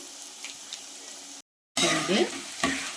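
Cauliflower pieces deep fry in hot oil for crispy gobi 65, a bubbling sizzle with stirring clatter, cut by a brief silent gap before the frying resumes louder and busier; a voice is also heard talking.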